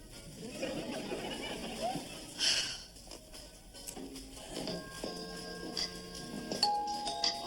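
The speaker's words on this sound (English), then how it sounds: "I'm terribly sorry I rang the wrong bell." A doorbell chimes in a television comedy sketch, a few ringing tones heard over background studio noise and rustling, with no other talk during the ringing.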